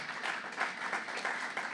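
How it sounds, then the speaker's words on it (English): An audience applauds after a round of applause is called for at a Texas legislative session event, steady dense clapping filling the room throughout at moderate level. "So just want to give a round of applause to Texas 2036."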